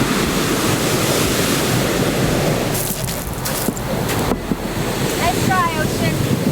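Ocean surf on a beach near the township of Haast on New Zealand's South Island, a steady broadband wash of breaking waves roughing against wind buffeting the microphone, with a brief faint call near the end.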